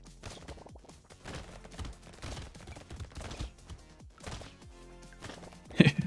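Rapid SMG fire from a level 4 cursed weapon in the game Brotato, a dense run of small clicky shots over busy game music, ending in a louder burst of hits.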